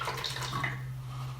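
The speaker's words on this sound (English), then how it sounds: "So I filled it up with vinegar just to here." Vinegar poured into a plastic bottle for a kitchen chemistry experiment, a steady close trickling and gurgling of liquid that runs throughout, with a low hum underneath.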